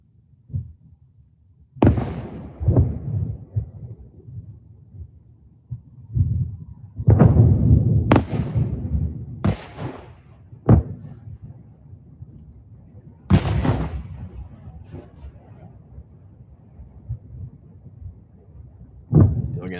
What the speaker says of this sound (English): the very large impacts being heard in the background